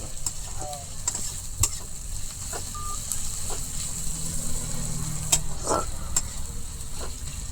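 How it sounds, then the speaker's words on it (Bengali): Chopped onions fry in a pan, a steady close sizzle with occasional scraping stir sounds and faint clicks in the background. "এখন কি ডাললাম এটা? পেঁয়াজ। কেমনে ভাজা হবে এটা? এটা লাল লাল করে হালকা ভাজা হবে।"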